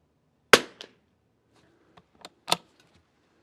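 A single sharp report from a .22 semi-automatic rifle firing Eley ammunition at a range, loud and abrupt with a quick decay, followed by a few fainter clicks and a second sharper impact-like crack.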